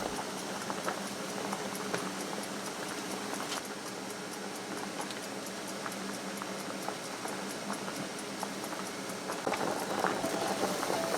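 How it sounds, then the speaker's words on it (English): Watermelon rind simmers in a pot of boiling water on a stovetop, a steady close bubbling and popping that continues alone throughout. "Cover the rind in boiling water and return to the stovetop to simmer for 5 minutes."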